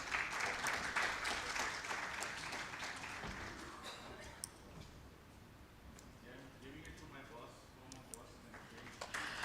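Audience applause for a panelist at a national workshop on pension schemes, a dense crowd clapping that is strongest at first and then thins to a softer patter, with talk running beneath it.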